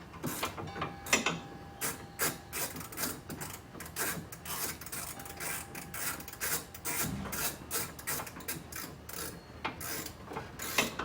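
A ratchet wrench tightening the nut on the steering shaft yoke of a John Deere HPX 4x4 Gator, giving a steady run of quick close clicks with brief pauses, heard alone.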